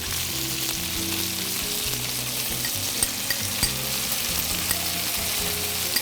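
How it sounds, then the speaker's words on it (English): Butter and garlic sizzle steadily in a pan, a close, continuous frying crackle with faint clinks of stirring scattered through. "I'm going to melt this butter. And then in between, I'm going to put the garlic in"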